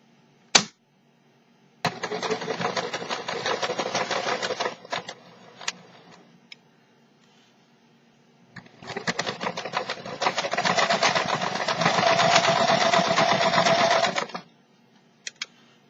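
A sewing machine stitches across a knitted sweater to secure it for steeking, running in two long bursts with a pause between, close and steady, with a sharp click at the start and no talking.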